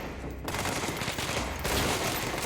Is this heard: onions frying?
no